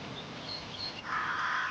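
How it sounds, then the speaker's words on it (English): Crows cawing in open mountain or plains country, a few harsh calls at moderate distance over a steady outdoor hiss, the final stretch louder and fuller. "These crows are not about to stay and pick a fight."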